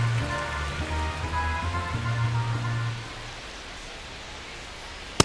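Steady rain hisses down on a baseball field in MLB The Show 25, a soft even wash running beneath low humming tones that drop away partway through, leaving only the rain.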